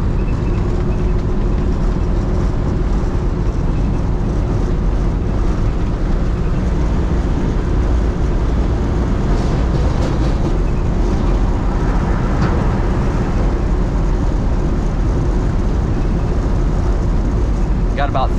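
A 1949 Ford Custom Convertible picks up speed on the road, its engine a steady low drone with rushing road and wind noise throughout, quiet and even rather than roaring.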